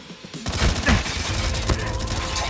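Gunfire in the Call of Duty Mobile multiplayer match on the High Rise map, a burst of sharp shots after a quiet opening half second, then steady dense battle noise with a few louder cracks, close and loud with no talking.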